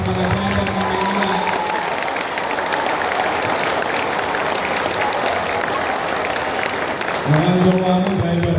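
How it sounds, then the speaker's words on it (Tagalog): A crowd gives loud, sustained applause for Manila drivers at a program, dense clapping running unbroken for several seconds and swelling again near the end, with a voice heard over the start and finish. "Palakpakan natin ang pinakamalakas yung palakpak para sa mga driver ng Manila."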